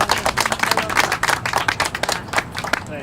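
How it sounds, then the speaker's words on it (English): A crowd claps at a community garden ribbon cutting in Gibson Park, a brisk round of applause with sharp, dense hand claps close by, steady for a few seconds and then thinning slightly. "A huge round of applause for them just to get it started."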